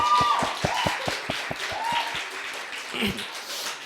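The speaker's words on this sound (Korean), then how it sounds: "우리 박수로 한번 환영하겠습니다." A church congregation claps at a Sunday worship service, the hand claps sparse and distinct, ringing out as separate sharp strokes in a steady rhythm before thinning out toward the end.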